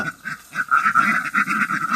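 A flock of laying ducks quacking continuously, overlapping nasal calls at close range forming a busy, unbroken chorus.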